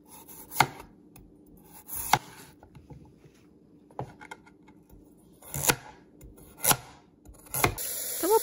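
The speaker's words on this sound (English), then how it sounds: "Start by washing, peeling, and cutting potatoes and carrots." A knife chops potatoes and carrots on a cutting board in a kitchen, sharp isolated thuds spaced irregularly, close and clear against a quiet background.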